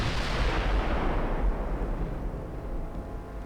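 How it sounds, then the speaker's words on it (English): Rapid naval gunfire from quad-barrel 5-inch secondary batteries in Ultimate Admiral Dreadnoughts, a dense rolling barrage of overlapping booms that stays loud and continuous throughout, with no voices. "they're all quad barrel 5-inch guns."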